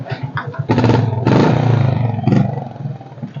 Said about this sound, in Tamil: சைலன்சர் சவுண்ட் எப்படி இருக்கு உங்களுக்கு?